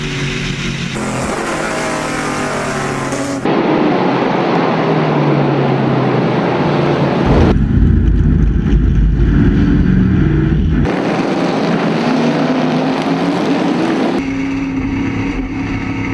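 Historic Trans-Am race cars roar past at the Circuit of the Americas. The engine noise is loud and continuous, rising and falling as the cars come close and pull away, with heavy wind buffeting on the microphone.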